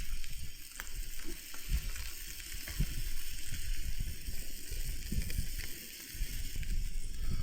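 Burgers sizzle in a pan on a camping stove on a wet, windy Yorkshire Dales mountain, a steady close frying hiss with small crackles running throughout.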